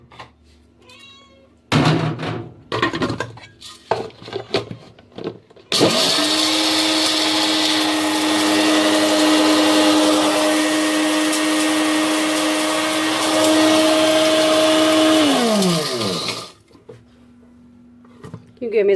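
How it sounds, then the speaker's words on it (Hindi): An electric grinder whirs loudly for about ten seconds as it coarsely minces beef for seekh kabab, steady and close, ending abruptly, with someone speaking before and after the run. "ये अब इसमें ग्राइंड करेंगे।"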